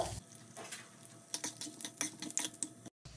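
Cumin, mustard seeds, chana dal and urad dal splutter in hot oil, a faint stream of quick crackles and pops, fairly steady and with no talk.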